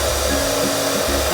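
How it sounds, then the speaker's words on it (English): Hair dryer blowing on someone's hair, a steady loud rushing whir that fills the short moment with a slight wavering hum underneath. "Hair drying."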